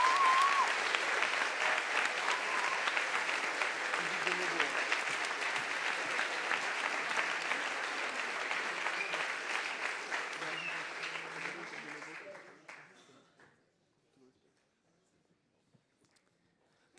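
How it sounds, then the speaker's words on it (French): Audience at the HEC Paris 2024 eloquence contest final applauds loudly and steadily for about twelve seconds, then the clapping thins and fades to near silence. "Je vous demande s'il vous plaît une tempête d'applaudissements pour Madame Alicia Isard."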